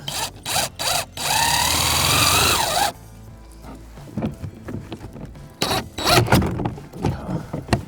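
A power drill whines steadily for a few seconds after some short bursts, driving a screw into gutter parts outdoors in rain, sleet and snow, then cuts off, followed by clunks and handling noises.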